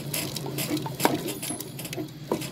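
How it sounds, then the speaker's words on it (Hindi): Spinach and moong dal saag is mashed in a metal pot, with repeated clinks, scrapes and soft wet thuds in an irregular rhythm, close and moderately loud. "अब मैं इसे अच्छे से घोटूंगी 10 से 15 मिनट"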